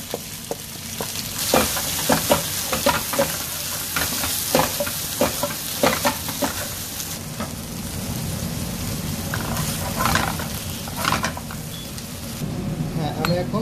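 Part-boiled vegetables are stirred in a hot pan for a Chinese chicken curry, with steady sizzling broken by repeated scraping clatters of a spoon against the metal, close by and rhythmic.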